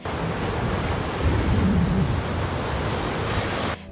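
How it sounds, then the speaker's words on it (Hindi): Strong wind blows steadily in a broad, loud roar with a slight swell in the middle, alone and unbroken until it cuts off near the end. "अचानक हवा तेज चलने लगी।"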